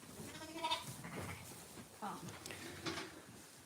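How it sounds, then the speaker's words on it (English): Sheep and lambs bleat in a pen, including a Dutch spotted sheep, with several overlapping bleats at close range and a person talking among them. "that Dutch spotted sheep is a bit of a bully"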